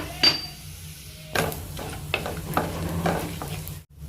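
Cumin seeds and crushed garam masala hitting hot oil in a pan, a soft crackling sizzle broken by a few sharp spoon and pot knocks.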